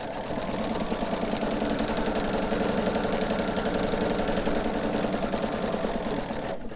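A sewing machine stitches a quilt in a steady, close, loud run, with its rapid, even needle rhythm continuing unbroken until it stops abruptly at the end.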